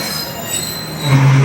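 Wheels of the Sialkot Express squealing as it pulls out of Sambrial railway station, a rising metallic screech over a broad rumbling train noise, close and loud.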